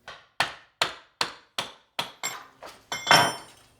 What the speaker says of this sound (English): I'm going to use a little mini sledgehammer because it'll go a little bit quicker, a little bit heavier than a regular hammer, and a pry bar